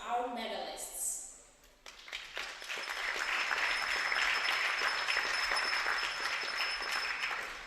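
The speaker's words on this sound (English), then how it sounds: "One big applause for our medalists." Spectators at a European Championship women's pistol shooting event in Osijek break into sustained applause for the medalists, following a brief stretch of a voice and quiet, the clapping steady and moderately loud to the end.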